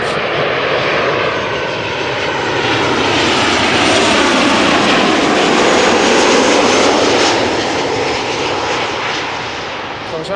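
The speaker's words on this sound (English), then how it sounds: "Transavia arriving from Malaga," A Transavia airliner arriving from Malaga at Schiphol Airport, its engines roaring loud and steady as it passes close, swelling toward the middle and easing slightly at the end.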